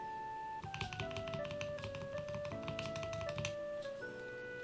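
Crisp, rapid clicks from a KTT mechanical keyboard switch pressed repeatedly in a switch tester, close up, with a faint steady background tone underneath.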